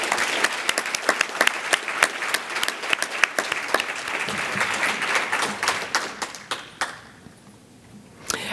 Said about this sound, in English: So I ask you to join me in a round of applause for Lynn and Mike